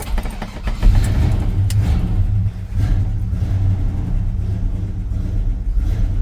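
A 1984 Chevy C10 pickup engine is running nearby, a loud, steady low rumble with uneven throttle surges early on, continuing alone without any talk.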